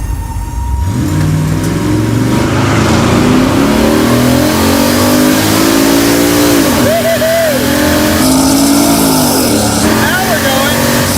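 A car with stock suspension and a 600-plus horsepower LS engine accelerates hard, its loud engine note climbing through the gears with brief dips at each shift, close and continuous throughout.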